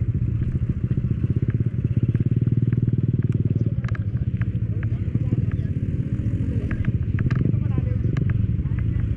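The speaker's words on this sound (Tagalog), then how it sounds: "Matatansya mo pa kung anong klaseng motor ang nakakatawid." A local motorcycle fords a shallow, clear river in Tanay, its mid-pitched engine chugging steadily and fairly close while water splashes and clatters around it, with people talking over it.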